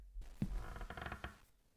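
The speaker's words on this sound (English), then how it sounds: "as soon as I heard that creak, I'm out." A short, faint wooden creak inside a cabin in a scary video game, a single drawn-out groan with a soft thump at its start, heard alone against quiet.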